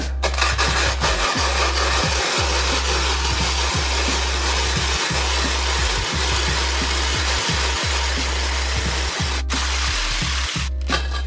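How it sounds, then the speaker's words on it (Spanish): Steady rhythmic scraping of sandpaper against a sharpening stone, flattening it with back-and-forth strokes repeating about every second, close and loud, with no talking. "Y venimos a lijar."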